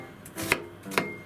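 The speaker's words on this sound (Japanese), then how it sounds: "玉ねぎカット" A kitchen knife slices through an onion on a cutting board, giving two crisp, close chops about half a second apart.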